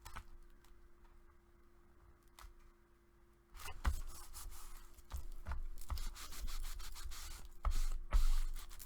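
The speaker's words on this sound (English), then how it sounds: "Burnishing it down." Glued paper on a planner folio is burnished down, first quiet faint rubbing, then louder close repeated scraping strokes in bursts across the surface.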